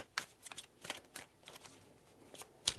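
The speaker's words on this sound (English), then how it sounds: "Three shuffles." A deck of tarot cards is handled quietly and close by, with soft, irregular papery flicks and slides and one sharper snap near the end.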